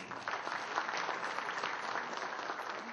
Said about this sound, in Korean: 다 같이 박수 한번 부탁드리겠습니다.